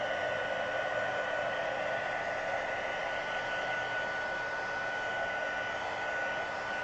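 A hair dryer blows steadily and close up to dry a handmade greeting card coloured with Orchid Oasis ink, a constant broadband whoosh with a faint whine, running unbroken with no talking.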